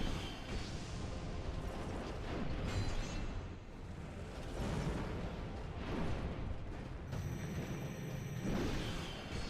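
Dense, continuous booming and rumbling explosions in the video game Dark Souls 2, loud and close with repeated blasts layered over one another and no pauses.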